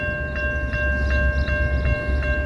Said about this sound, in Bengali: এখন একটি ট্রেন আসছে, অটোমেটিক সিগন্যাল নেমে যাচ্ছে